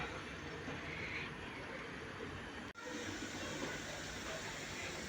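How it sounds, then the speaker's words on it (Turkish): A tea kettle boiling on a stove gives a steady, broadband hiss, constant throughout with one brief dropout midway; no talking. "Çayımız da kaynıyor"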